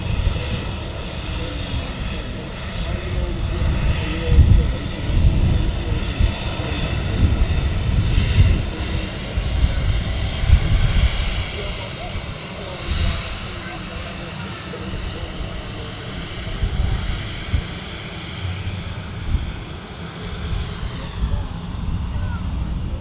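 Ryanair airliner with the older wingtip design at Manchester Airport, its engines a steady broad roar with low rumble that swells and eases across the stretch, fairly close, with voices talking over it.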